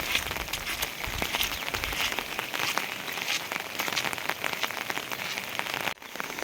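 Heavy rain pouring in Uttarakhand, a dense, continuous patter of drops striking surfaces, close and loud throughout with no voices.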